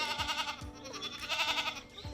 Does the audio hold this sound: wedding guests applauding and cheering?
no